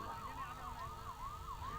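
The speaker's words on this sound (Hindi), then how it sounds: "एम्बुलेंस गाड़ी" A wailing ambulance siren rises and falls in a steady repeating sweep, faint and somewhat distant against a low rumble of background noise.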